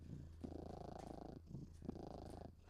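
Up close, a contented cat purrs with a low, rumbling vibration in slow, even cycles of breathing in and out, soft and continuous, with no talking.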